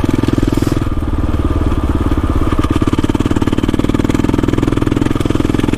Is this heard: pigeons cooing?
no